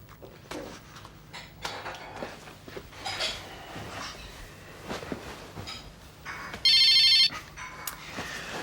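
In an indoor scene from a 2002 Finnish TV drama, a telephone gives a single short electronic ring near the end, clear over quiet room noise and scattered small knocks.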